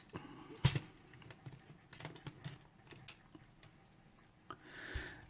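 A Transformers toy figure's ratcheting joints being moved, giving a few quiet, close plastic clicks and small creaks scattered through a short stretch.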